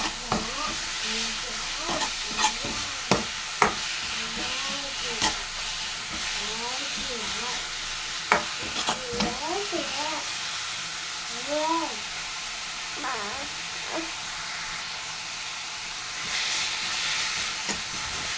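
Vegetables coated in chili powder fry in a pan, a constant close hiss of sizzling oil under intermittent stirring clicks and knocks, while a voice talks over the cooking throughout.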